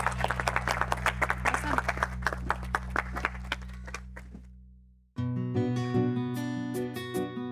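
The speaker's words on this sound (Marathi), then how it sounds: "अरे टाळ्या." Several people clap together at a felicitation ceremony, giving a burst of sharp, close handclaps that fades out before a musical sting cuts in.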